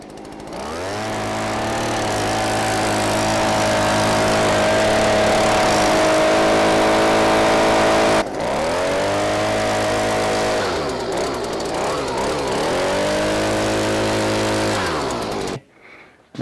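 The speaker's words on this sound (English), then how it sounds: "then we take the leaf blower and we just blow in here and blow in there" A leaf blower blasts debris out of a combine harvester during cleanout, a loud sustained motor whine that shifts pitch as the nozzle moves, with a brief dip midway before cutting off near the end.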